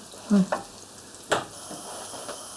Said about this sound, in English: Put it on high. And cook this up as it is.